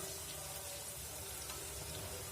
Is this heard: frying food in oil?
yes